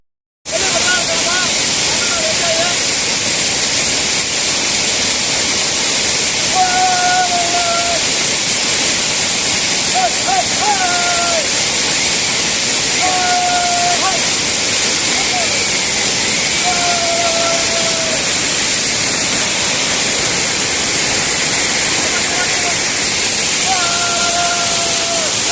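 Waterfall in the Kolli Hills, a steady broadband roar of falling water that fills the whole stretch, with short voices and faint whistle-like calls drifting over the constant rush.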